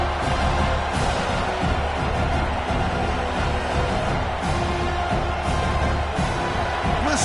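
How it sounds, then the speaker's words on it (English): Stadium crowd at a Florida State football game, a steady broadband roar of many voices filling the space continuously, loud and distant-sounding with no single standout cheer. "Listen to the crowd energy here in the early going"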